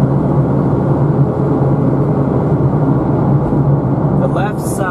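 Cars overtake in the right fast lane of a highway, heard as a steady loud wash of tyre and engine noise from inside a moving vehicle, with a brief higher whoosh near the end.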